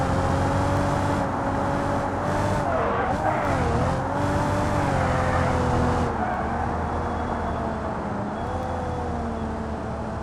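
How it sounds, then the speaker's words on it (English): A bus drifting in the BeamNG driving game, its engine droning steadily with pitch swells and dips as it slides through turns, joined by a brief tyre screech, loud and continuous for the whole stretch with no voices. "I guess we're just doing some extra drifting here"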